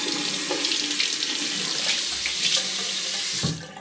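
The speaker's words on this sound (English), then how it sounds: "let me rinse my face off with cold water." Cold tap water runs steadily from a bathroom faucet while someone rinses their face after shaving, a continuous close splashing hiss that cuts off near the end.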